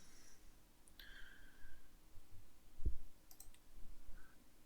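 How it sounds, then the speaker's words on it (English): Computer mouse clicks during a Crusader Kings 3 Game of Thrones mod session, a few faint, sparse taps over a quiet background hiss. "I'm just clicking on this now, just for the sake of it."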